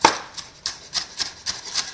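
A kitchen knife chops vegetables on a cutting board in a steady run of about seven crisp, evenly spaced knocks, close and with no talking.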